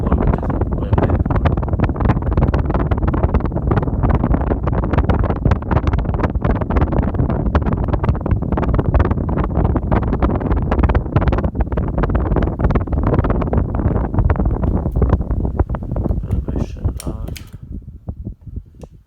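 A Casablanca Wailea 31-inch ceiling fan with four bleached oak blades whirs steadily with a rhythmic whooshing flutter close to the microphone, fading near the end.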